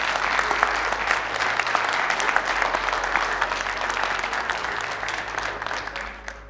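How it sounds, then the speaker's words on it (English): A seated audience at a Chicago Bears scouting staff event breaks into sustained, even applause, a dense wash of many clapping hands that holds steady for several seconds before tapering off at the end. "So everyone give a round of applause."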